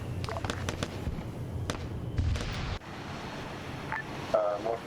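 A mine goes off in Arma 3 during a public Zeus ops match on an island, heard as a cluster of sharp cracking bursts in the first few seconds, followed by quieter game ambience.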